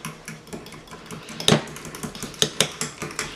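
A spoon clinks and scrapes against a bowl while cheese is stirred into an egg mixture for egg bites, with a few sharp metallic taps among steady soft stirring and no talking.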